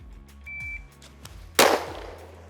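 A single sharp pistol shot from a Walther PDP Pro fitted with a Parker Mountain Machine compensator during an outdoor build drill in freezing cold, one loud crack with a short decaying tail after faint beeps and clatter.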